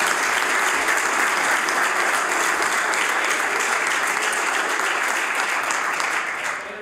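Sustained applause and desk-thumping fill a legislative chamber, the House of Assembly, loud and dense throughout before easing slightly at the end.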